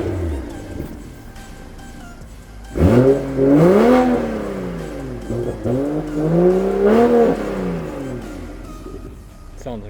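A BMW M340i in Sport Plus mode revs its exhaust in three loud, rising-and-falling bursts close by, with a steady idle between them and a quieter rumble before the first rev.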